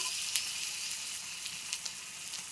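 Garlic paste sizzles in a frying pan with chopped onions and bay leaves, a steady bright hiss with a few small pops, close and alone without talk.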